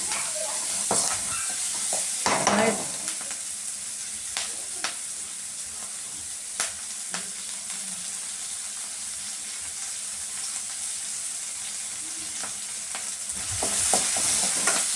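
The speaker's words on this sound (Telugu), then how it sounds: "బాగా వేగాలి ఆనియన్స్" Onions fry in a pan for a pumpkin (gummadikaya) dish, with a steady close sizzle and scattered scraping stirs and clinks throughout.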